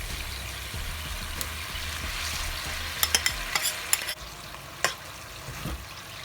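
Beef and mushrooms sizzling in a hot pan with broccoli, vegetables and cornstarch, a steady close frying hiss with stirring scrapes and a cluster of sharp clicks and taps partway through, no speech.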